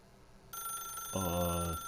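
A telephone rings in the video game The Stanley Parable: a bright, electronic bell tone that starts sharply, then gains a lower buzzing layer before ending, over faint background hum.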